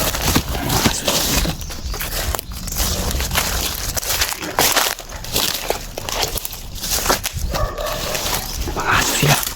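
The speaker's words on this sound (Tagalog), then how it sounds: "Mga aso sila." Dogs bark repeatedly in the background among noisy outdoor sounds, with a person speaking intermittently over them.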